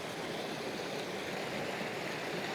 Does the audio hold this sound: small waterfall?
yes